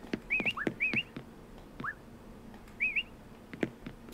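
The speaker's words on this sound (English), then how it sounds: "And whistling." Short rising whistle tones from a player character in Animal Crossing: New Horizons, several quick chirpy notes spaced apart over faint game background sounds.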